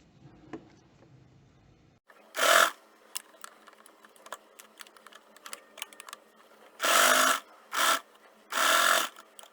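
A home sewing machine stitches a hidden zip in several short motorized bursts: one brief run, then three more close together after a pause, with faint handling ticks and fabric rustles between them.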